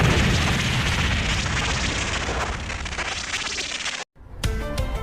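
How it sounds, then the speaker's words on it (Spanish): A small underwater explosion as a film sound effect: a long, loud, churning roar of rushing water and debris lasting about four seconds, cut to sudden silence, then a brief burst of bubbling, ringing aftermath. "Una pequeña explosión bajo el agua fue lo único que quedó como testigo"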